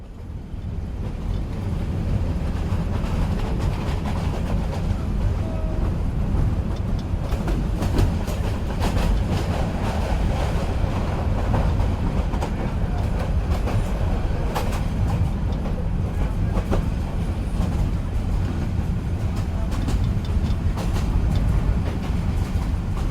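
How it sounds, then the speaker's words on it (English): Steady rumble of a nine-coach passenger train running on rails toward Edinburgh, a continuous loud interior drone with faint rhythmic clicks of the wheels over the track joints and no voices. "This train has 9 coaches."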